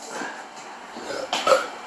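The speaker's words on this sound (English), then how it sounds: "Why you burping?" A person lets out a throaty burp during a one chip challenge, a low croaking sound that swells near the end amid faint room noise.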